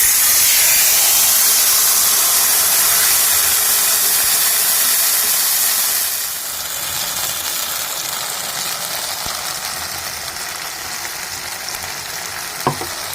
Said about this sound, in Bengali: যে মশলাটা পেস্ট করেছিলাম সেই মশলাটা ঢেলে দিচ্ছিলাম।